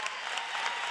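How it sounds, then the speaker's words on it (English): A church congregation applauds their pastor in a brief, steady burst of dense clapping with no voices heard. "can we all give Pastor a round of applause?"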